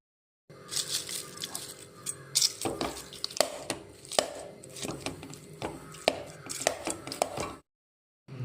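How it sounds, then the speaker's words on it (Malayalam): Cooked tapioca being mashed and mixed with a seasoning in a pan, heard as repeated close knocking and scraping strokes in an irregular rhythm, alone with no talk. "ഇനി ഇതെല്ലാം കൂട്ടി ചേർത്ത് നമ്മൾക്ക് കപ്പ അടിച്ചെടുക്കാം"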